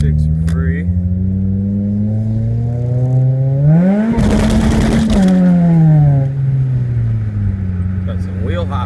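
Honda Civic EM2 engine revving hard at night in the rain, a loud close drone climbing in pitch, then a harsh burst of juddering wheel hop before easing back; a voice talks over it.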